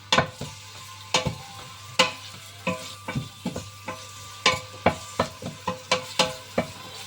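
Hotdog and onion sautéing in a pan, a low sizzle under a series of sharp scrapes and clacks as a utensil stirs and strikes the pan, irregular and close, with no talking.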